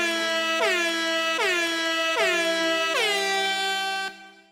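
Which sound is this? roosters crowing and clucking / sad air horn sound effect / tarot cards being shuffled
sad air horn sound effect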